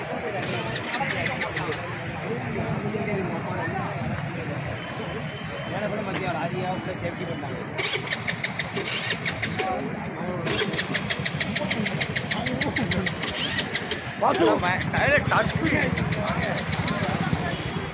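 A JCB excavator's diesel engine works near a bridge by flooded ground, chugging and knocking steadily at a middle distance while people talk over it.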